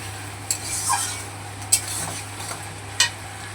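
Onions with salt frying in a pan, a soft steady sizzle close by with a few spatula scrapes and stirs, no talk.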